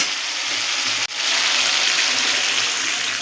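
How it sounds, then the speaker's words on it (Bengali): Water hits hot mustard oil and mustard paste in a pan for a dhela fish jhal, making a loud, steady sizzle that cuts out briefly once before continuing. "এবার আমি এর মধ্যে দিয়ে দেবো অল্প পরিমাণে জল।"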